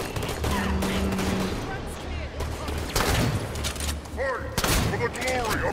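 Rapid SMG gunfire in the video game Halo 5: Guardians, dense bursts of shots amid other game effects and explosions, with voices speaking intermittently over the action.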